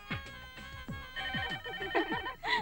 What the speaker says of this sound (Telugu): టెలిఫోన్ ఎంతసేపటి నుంచి రింగ్ అవుతుంది, తీయండిరా